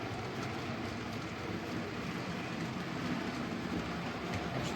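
A model railway train runs along a layout, a steady, continuous rolling rumble that stays even throughout, with no talking over it.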